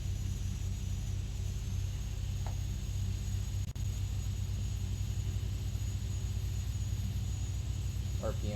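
An aircraft engine spinning up during start, a continuous droning rumble with steady whining tones and a brief click midway, heard from inside the cockpit.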